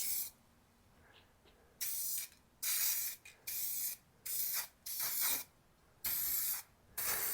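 Spray paint can applying color coats to fiberglass on a Jeep TJ, heard as a series of about eight short hissing spray bursts with brief pauses between them, close and steady with no talking.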